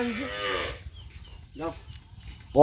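Cattle being taken to market moo several times, one drawn-out low moo followed by shorter calls and a loud final bellow, close by with no talk.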